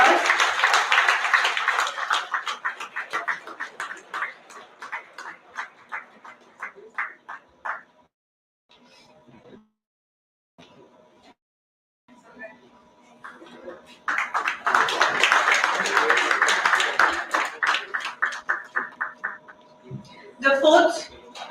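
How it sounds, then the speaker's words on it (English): Audience at a chess tournament prize-giving clapping for a winner: a long burst of close applause that thins out, then a pause with scattered sounds, then a second loud round of clapping that tapers off. "Give her a big round of applause."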